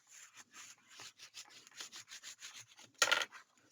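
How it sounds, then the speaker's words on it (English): A tool burnishes paper album pages in quick, rhythmic rubbing strokes, close and quiet, with one louder scraping sweep near the end. "press it down, line up your edges, and burnish"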